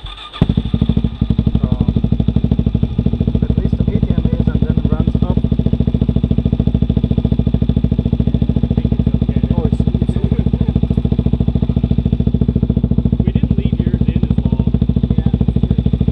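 A motorcycle engine runs steadily close by, a loud continuous idling rumble with clattery mechanical ticking that holds for the whole stretch while people talk nearby.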